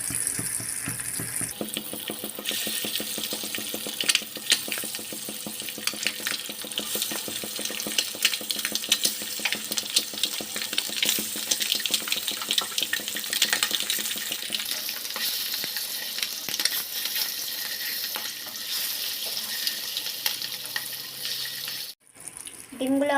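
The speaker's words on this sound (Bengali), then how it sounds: "তেলটা আমার গরম হয়ে গেছে, একটা একটা করে ডিম দিয়ে দিচ্ছি।" Eggs fry one by one in hot oil in a wok, a loud continuous crackling sizzle close up that runs throughout with small pops and spatters, cutting off briefly near the end.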